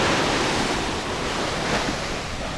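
Ocean surf washes continuously onto a sandy beach at Nha Trang, Vietnam, a broad steady roar mixed with wind, with no voices.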